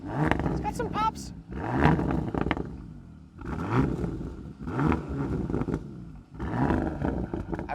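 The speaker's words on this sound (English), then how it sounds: "So let's give it some revs." Bentley Batur Convertible luxury supercar engine revved in sport mode, rising in repeated loud roaring bursts with crackling exhaust pops between them, close by.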